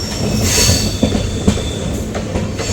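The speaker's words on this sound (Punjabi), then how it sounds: "ਸਾਹਮਣੇ ਟ੍ਰੇਨ ਜਿਹੜੀ ਆ ਪਾਸ ਕਰ ਰਹੀ ਆਪਾਂ ਨੂੰ" A train rolls past near Yamuna Nagar Jagadhri railway station, wheels clattering over the rails with a rhythmic clack and a high metallic squeal above the rumble.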